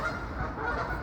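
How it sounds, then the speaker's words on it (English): A flock of agitated geese keeps up continuous overlapping honking, loud and close, with no voices. "Someone's upset the geese,"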